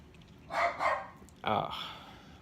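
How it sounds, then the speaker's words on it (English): A pet dog barking indoors, two quick barks followed by a longer bark after a pause, fairly close, alone without talk. "I wish my dog would stop barking."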